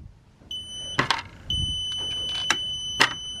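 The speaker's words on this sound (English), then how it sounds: "BMS will start beeping now." Battery management system alarm on a battery bank being refitted with aluminium busbars, sounding as steady high-pitched tones that run through most of the moment, with sharper clicks and clunks of hardware handling around it.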